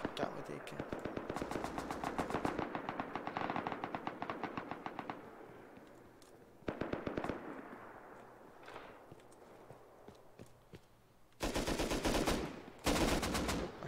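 Rapid automatic gunfire in a fight in the video game Rust, bursts around a gas station, with an AK rifle. Dense volleys of shots fill the first five seconds, then sparser, quieter shots and two loud close bursts near the end.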